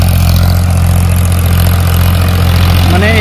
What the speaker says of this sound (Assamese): ট্ৰেক্টৰেদি হাল বৈ আছোঁ